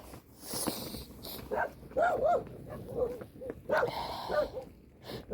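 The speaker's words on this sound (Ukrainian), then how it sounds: "Ах, собак скільки." Several dogs bark and yip at a distance in scattered bursts, with some whimpering mixed in.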